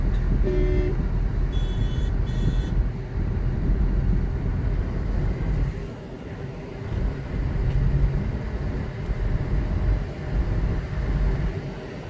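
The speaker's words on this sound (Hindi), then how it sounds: "हॉर्न देते रहो उनको" A car horn sounds in short honks while a car drives on a highway beside trucks, with steady loud road and engine rumble underneath and no talking.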